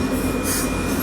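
A Union Pacific freight train rolls past a crossing at Fondren Road and South Main Street in Houston, Texas. Close, steady rumble with a thin metallic wheel squeal over it, continuous for the whole moment, with no voices.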